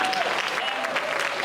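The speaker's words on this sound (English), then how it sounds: "So give yourself a round of applause." Crowd at a celebration of exceptional women of color in Sacramento claps together, a thick continuous patter of hands with voices and cheers woven through, close and lively.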